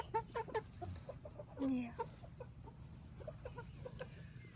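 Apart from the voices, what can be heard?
free-range chickens clucking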